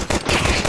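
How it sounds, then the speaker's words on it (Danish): Rapid bursts of video game gunfire fill a dense, loud stretch, sounding like automatic weapon fire in quick succession with no gaps. "Du ramte ingen af de skud."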